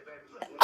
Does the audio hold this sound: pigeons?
no